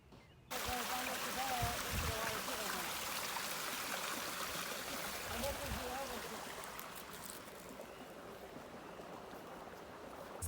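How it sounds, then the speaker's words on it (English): Runoff stream flowing into Crooked Creek: a steady, close rush of water pouring and splashing, continuous and broadband throughout, with no talk over it. "I am next to one of the many runoff streams that feed into Crooked Creek"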